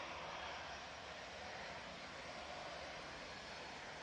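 Aircraft rolling down the runway on arrival at Manchester Airport, a steady broad engine roar heard from a distance, even and unbroken with no voices.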